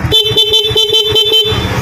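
A loud PIAA horn on a Honda Winner X motorcycle blares in rapid repeated pulses, about seven quick honks in under two seconds, close and piercing.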